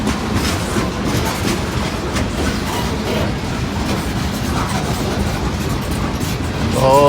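A freight train rolls past on the Indiana and Ohio Railway short line, a loud, continuous rumble with rhythmic clickety-clack from the wheels and a brief high squeal near the end.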